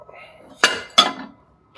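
Two sharp clinks of plates and bowls from Kmart kitchenware being handled, close and distinct, separated by a short pause, with a faint tap at the end.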